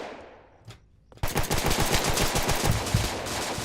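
Rapid automatic gunfire in Street Life Remastered, a dense loud burst of shots in quick rhythm that starts abruptly after a near-silent lead-in and keeps going to the end.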